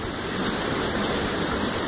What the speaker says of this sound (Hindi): यहाँ तो हम थोड़ी देर तक बैठ भी नहीं सकते क्योंकि पानी बहुत खतरनाक आ रहा है यहाँ पे